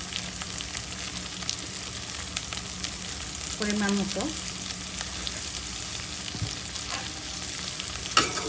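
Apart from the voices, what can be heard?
onion, chili and tomato frying in a pan while stirred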